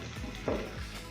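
Three whole dried red chillies fry in hot oil for a dal tempering, a close, steady crackling sizzle with faint stirring scrapes throughout.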